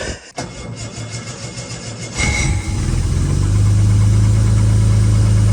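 A 1968 Jaguar 420G engine, sitting eight months on stale fuel, cranks briefly, catches and settles into a steady, smooth idle with a low rumble, close and loud, no voices.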